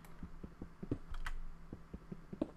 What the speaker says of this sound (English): I hear a skelly being all rattly with his bones